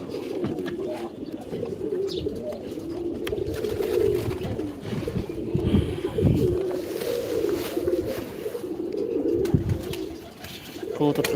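A pair of pet pigeons coo continuously at close range, their soft, throaty calls repeating in steady rolling phrases over a low background.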